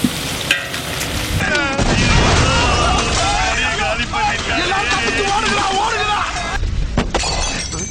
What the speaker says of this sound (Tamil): ஏறாங்க பச்சை மிளகா வெடிக்கும்.